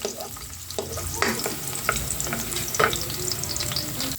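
Chopped onion fries in a hot pan, a continuous sizzle broken by a few sharp scraping stirs of a utensil, close and fairly loud with no talking.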